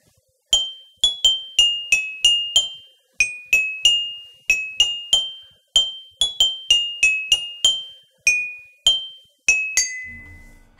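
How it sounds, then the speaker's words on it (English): Xylophone playing London Bridge Is Falling Down, bright struck bars ringing out one note at a time in a steady melodic rhythm with short decays, clear and close, with no voices. "Wow, xylophones are so much fun."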